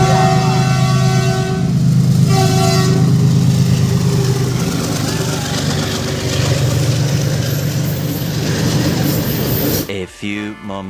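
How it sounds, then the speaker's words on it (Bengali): A train arriving at a rail crossing during a Rathyatra fair, its horn sounding in long sustained blasts over a steady heavy rumble of rolling wagons, loud and close, until it cuts off near the end. "ফাইনালি গাইস তোমরা দেখতে পাচ্ছ যে ট্রেন চলে আসছে"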